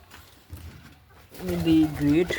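Satin pigeons on a farm give a couple of close, low, drawn-out coos in quick succession after a quiet, faintly rustling start.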